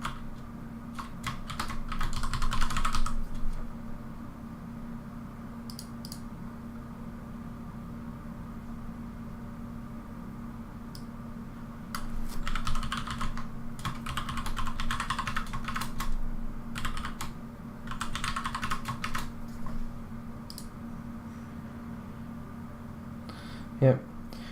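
A password is typed on a computer keyboard, with short bursts of quick, close keystrokes separated by stretches of quiet room hum.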